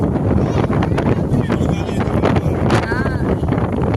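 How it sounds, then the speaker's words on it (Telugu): Strong wind roars across the open upper deck of a passenger ship at sea near the Andaman Islands, a loud, continuous buffeting rush on the microphone with faint voices mixed in. "పైకి అయితే వచ్చాం, చాలా గాలి అయితే వీస్తుంది"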